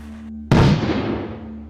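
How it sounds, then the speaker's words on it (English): A powerful explosion of confined gases bursts out suddenly after a low steady hum: one sharp, loud blast followed by a long rumbling decay that fades slowly. "This time, a powerful explosion."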